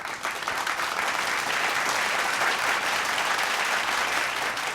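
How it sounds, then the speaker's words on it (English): An audience at a CNBC risk management awards ceremony applauds steadily, a dense wash of clapping from many hands that holds at an even level throughout. "Huge round of applause, ladies and gentlemen."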